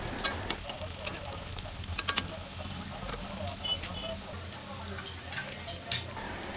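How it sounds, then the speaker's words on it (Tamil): Cauliflower pakoda made with corn flour deep frying in oil, a steady low bubbling sizzle with a few sharp clinks and taps against the pan, fairly quiet and close, with no talking. "நல்ல கோல்டன் பிரவுன் ஆற வரைக்கும் இதை நம்ம ஃப்ரை பண்ணி எடுத்துக்க போறோம்."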